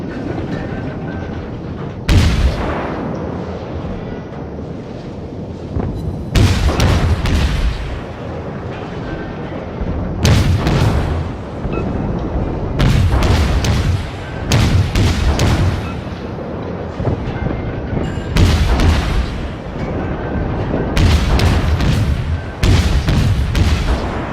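Naval cannon fire from warships in the World of Warships game: about seven heavy booming salvos at irregular intervals over a steady engine-like rumble, loud and with no talking.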